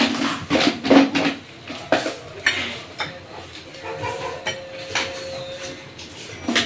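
Metal pot and lid clatter as eggplant is lifted out of a couscous steamer pot, with several sharp clinks and knocks up close, then quieter handling.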